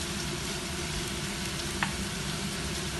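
Chopped onion browning over the lowest heat in a casserole, giving a steady, close, even sizzle with no break and one faint brief tick in the middle.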